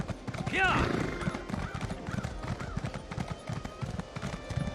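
A horse in the Elder Scrolls Online game gallops with rapid rhythmic hoof clops and lets out a clear whinny early on, while a person talks over the steady hoofbeats.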